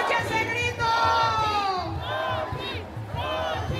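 A large outdoor political rally crowd for Xóchitl Gálvez at the Ángel de la Independencia in Mexico City chants and cheers with many overlapping shouting voices, loud and sustained.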